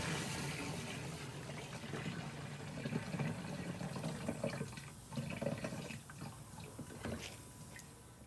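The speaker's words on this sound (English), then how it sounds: "Then we're gonna go ahead and fill it, rest it up with water to the gallon mark." Running water pours steadily into a jug up to the gallon mark, a constant rushing fill that shifts slightly in tone, with faint clinks near the end.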